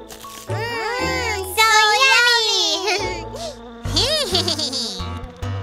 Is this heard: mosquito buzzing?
yes